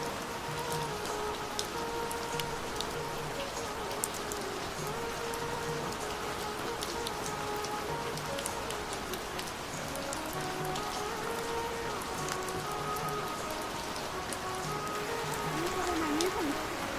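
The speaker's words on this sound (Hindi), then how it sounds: "हम बारिश में भीगते भीगते जा रहे हैं" Steady rain falls on a mountain trail near Kartik Swami Temple in Uttarakhand, a dense continuous patter of drops on surfaces, with no voices.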